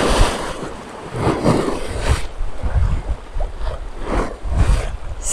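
Rising water lapping and churning at the Port de la Goulée on the Médoc shore, a loud, continuous rush of small waves with surging swells and wind buffeting the microphone.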